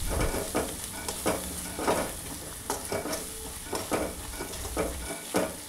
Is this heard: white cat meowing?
no